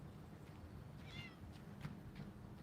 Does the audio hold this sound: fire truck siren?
no